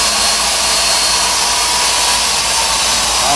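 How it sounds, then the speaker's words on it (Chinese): A corded electric power tool runs steadily at top speed, a loud, even high-pitched whir that holds without a break and with no voices. "你各位看一下，这是最高转速。"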